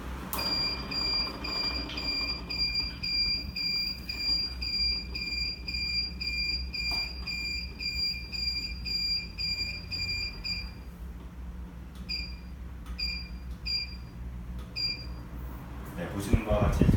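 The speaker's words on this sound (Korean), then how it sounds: "경보가 울린 뒤에 다시 재감지하여서 정상 작동되는 것을 보실 수 있습니다" A smoke alarm sounds during a protection device test, giving rapid high-pitched beeps in a long continuous run, then stopping and returning in shorter bursts, while a person talks under it.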